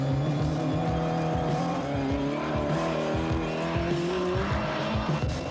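A car's engine drones with tire squeal while oversteering on a track, a continuous loud and close roar with wavering pitch and scrubbing tire noise throughout.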